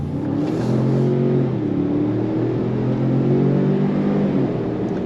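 Ford Expedition Tremor revving on throttle, heard from the cabin as a loud, smooth rising engine drone piped through the speakers to mimic a V8, alone without talk.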